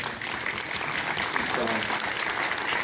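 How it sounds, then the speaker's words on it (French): Festival audience applauding to welcome a guest, Oreste Saffelli, a steady dense wash of clapping filling the hall with a voice faintly underneath. "Vous pouvez l'applaudir"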